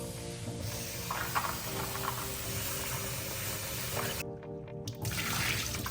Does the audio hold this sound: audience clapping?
no